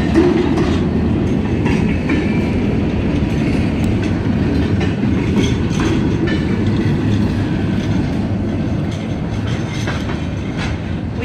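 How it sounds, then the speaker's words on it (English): A train rolls down a residential street close by, a loud, continuous rumble with clattering wheels and rail clicks throughout, fading slightly toward the end. "this is a train going down my street."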